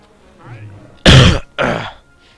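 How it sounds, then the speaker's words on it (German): Two sharp, loud coughs close to the microphone, one after the other, after a faint murmur at the start. "Ich weiß, dass ich gerade das Mikro gehustet habe."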